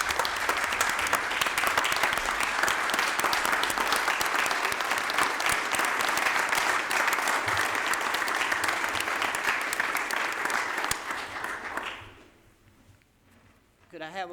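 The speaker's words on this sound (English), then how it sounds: "I'd like for y'all to give Jackson a round of applause for his accomplishments." Sustained applause fills a county commission meeting room for about twelve seconds, loud and steady, then tapers off and fades into quieter room noise.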